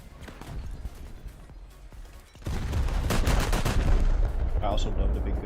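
Heavy naval guns firing in World of Warships aboard the large cruiser Alaska, a sudden loud booming blast followed by sustained rumbling explosions and crackling impacts, dense and close.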